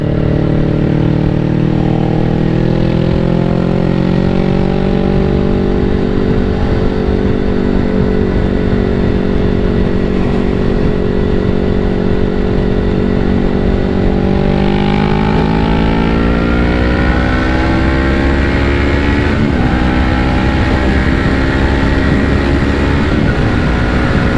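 Motorcycle ridden along the open public roads of the TT course, a loud sustained engine roar close by, its pitch holding then climbing and dipping through gear changes, with heavy wind rush and no voices.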